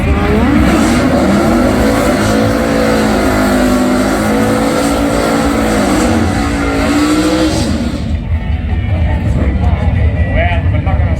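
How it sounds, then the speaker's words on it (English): Drag race cars, a Valiant and a 427-powered XD, roar loudly at a street drag strip, engines revving and rising in pitch before dropping away abruptly, with an announcer talking over the din. "It's going to be a good drag race."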